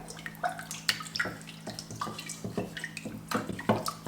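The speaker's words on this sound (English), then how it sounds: "Pour in our orange juice, so 1 cup." Orange juice, one cup, poured into a pan while cooking orange chicken, heard as a close, steady splashing liquid pour with small drips and spatters throughout.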